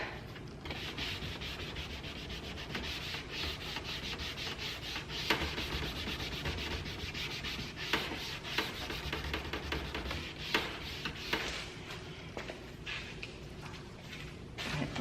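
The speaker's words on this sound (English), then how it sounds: "I'm just going to take my dry sponge that has just the leftover wax on it." A dry sponge carrying leftover wax rubbed over a white chalk-painted wooden farmhouse hutch; close, soft rhythmic scrubbing and scratching strokes continue throughout with a few sharper taps, fairly quiet and without speech.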